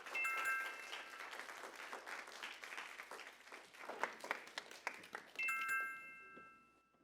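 An audience in a hall gives sustained, dense applause to welcome the final team, Yangji Middle School, at the 13th middle school mock trial competition. Bright chime tones ring at the start and again near the end as the clapping fades.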